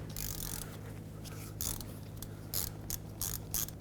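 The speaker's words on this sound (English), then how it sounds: "Grab a 9/16 socket, break this free." Socket ratchet on a 9/16 socket breaking free the rear brake hose banjo fitting on a 2008-2010 Ford F-250, a series of faint short clicking bursts over a low steady hum, with no talking.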